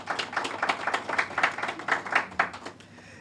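An audience claps at a media launch event for a student loan fund, a short burst of scattered applause from a modest crowd that tapers off after about three seconds.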